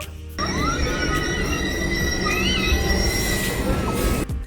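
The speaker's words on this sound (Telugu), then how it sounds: "7కి వందే భారత్ ట్రైన్ అయితే వచ్చేసింది" A Vande Bharat Express train rolls loudly close by, its wheels squealing and whining in long metallic tones over a heavy, steady rumble.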